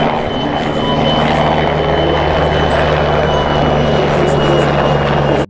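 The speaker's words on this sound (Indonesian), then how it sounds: "Ini helikopter militer." A military helicopter's rotor thumps and whirs loudly and continuously up close, a heavy steady drone that cuts off abruptly at the end.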